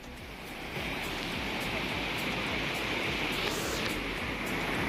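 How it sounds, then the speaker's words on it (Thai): Rushing water at Tha Suam waterfall, a dense, steady roar that swells after the first second and stays loud and close throughout. "น้ำตกท่าสวม"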